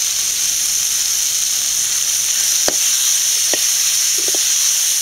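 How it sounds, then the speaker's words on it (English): Tomato pieces sizzle steadily in hot oil in a pan for a brinjal, mint and tomato chutney, a bright continuous hiss with a few soft pops and spatters near the middle and end. "So each and every vegetable we are going to fry it separately."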